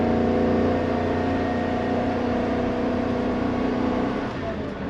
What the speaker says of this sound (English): Transmission shifts good.